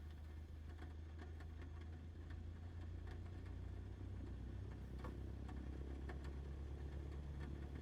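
A Cessna's piston engine in Microsoft Flight Simulator 2020 throttles up a little, giving a steady, close, droning hum that holds an even level throughout with no talk over it.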